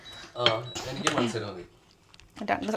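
An omelette flipped in a pan with a spatula gives a few quick metallic clatters and scrapes, close by, while a voice talks over them.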